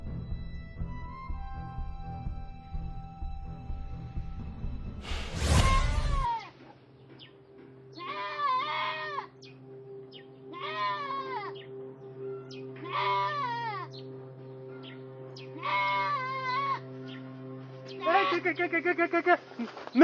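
A goat in a Cameroonian film bleats repeatedly, about five distinct cries spaced a couple of seconds apart after a loud burst, each near and clear over a low steady hum.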